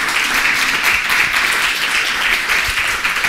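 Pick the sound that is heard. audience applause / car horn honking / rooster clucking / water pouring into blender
audience applause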